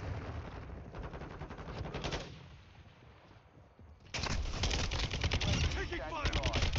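Rapid automatic gunfire in Call of Duty Modern Warfare 2, sustained bursts of machine-gun shots, dropping briefly then resuming louder and denser.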